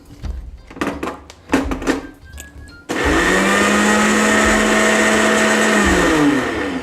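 An electric grinder whirs loudly and steadily for several seconds, reducing bread to crumbs. Before it starts come a few close knocks and clatters as the jar is loaded and closed.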